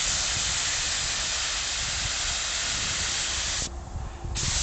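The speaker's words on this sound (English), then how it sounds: "Gonna spray this up. Let's do a little test patch here." A spray gun lays paint onto a Corvette C4 door, a steady, loud hiss running almost the whole time, then breaking off briefly near the end before resuming.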